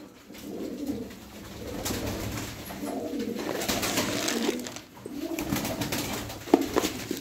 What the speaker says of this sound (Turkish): Toplamda 18 tane kuş var.